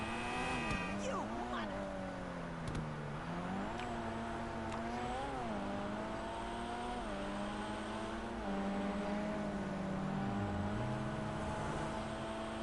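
A car engine in GTA 5 Online revs and drones, its pitch rising and falling through gear changes, and it sits under steady game background noise.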